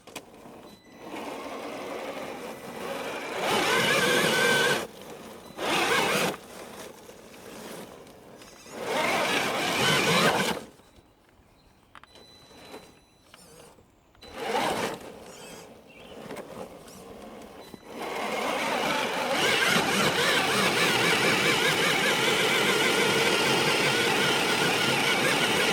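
An Austar AX A6 6x6 RC truck's electric motor whines in repeated loud bursts as its wheels spin without traction, with short pauses between runs, a quieter stretch in the middle, then a long sustained high-pitched whir.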